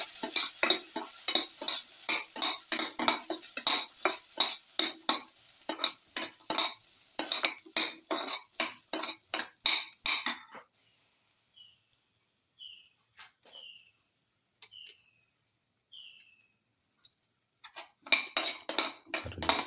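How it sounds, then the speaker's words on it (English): A spoon stirring a carrot and rice milk mixture in a pot, with rhythmic scraping strokes against the metal, a quiet pause broken by a few bird chirps, then the stirring resumes. "Mix thoroughly."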